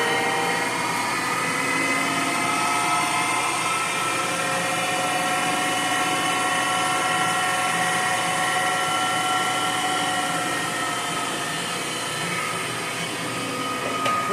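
A Monarch 10EE lathe runs steadily at 2,500 RPM, giving a smooth, continuous machine whine with sustained tonal hum that holds evenly throughout with no talking.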